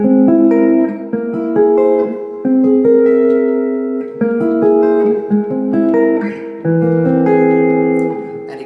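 Clean jazz guitar plays dominant seventh drop 2 chords with a sharpened fifth, a series of distinct strummed voicings moving through different positions, each ringing briefly before the next, close and clear with no talking.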